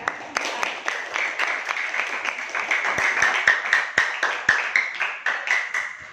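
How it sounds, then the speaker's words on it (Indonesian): A small group of students claps together in a classroom, rhythmic individual claps ringing out steadily for several seconds, close by in a room. "silakan beri tepuk tangan untuk kelompok 3"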